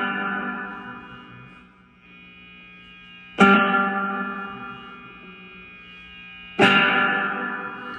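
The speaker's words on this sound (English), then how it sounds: "the dwell is how long the reverb sustains" Two sharp plucked guitar attacks through a reverb pedal, each followed by a long, shimmering reverb tail that decays slowly before the next strike.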